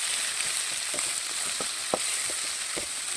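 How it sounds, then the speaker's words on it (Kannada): Green chillies and tomato fry in a pan for a Mangalorean jackfruit saaru, a constant hissing sizzle with a few distinct spatula taps and scrapes, heard up close without voices. "ನಾನು ಇದಕ್ಕೆ ಹಸಿಮೆಣಸಿನ್ಕಾಯಿ ಮತ್ತು ಟೊಮೆಟೊನ ಹಾಕ್ಕೊಂಡು ಸ್ವಲ್ಪ ನಾನು ಫ್ರೈ ಮಾಡ್ಕೊಂಡಿದ್ದೀನಿ."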